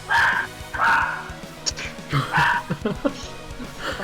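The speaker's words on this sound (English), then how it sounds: "Guillermo, edit out Aiden's dogs from real life." Several dogs bark and yip in quick bursts, fairly close and loud, with short gaps between barks.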